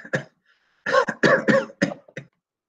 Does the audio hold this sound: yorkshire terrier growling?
no